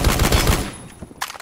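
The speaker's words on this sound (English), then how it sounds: "you know that M14 Supressor sound?" Suppressed M14 rifle fire in the video game Phantom Forces: a quick run of muffled, thudding shots in rapid rhythm, loud and close, then a short pause and one more sharp report.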